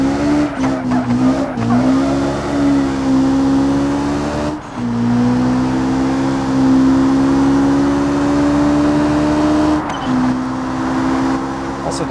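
A 459-horsepower rally-lit car in BeamNG drives with a steady loud engine drone that rises through the gears, short dips at each shift and brief tire squeal near the start.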